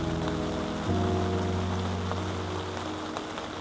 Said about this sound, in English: It rained the whole night last night